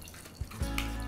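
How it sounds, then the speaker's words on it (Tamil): Carrot juice is strained through a large mesh strainer, with brief splashy, trickling liquid sounds and a couple of soft plops close by over about a second. "இப்போ இது வந்து ஒரு பெரிய வலைக்கரண்டு எடுத்துகிட்டு அதில் வடிகட்டிக்கலாம்."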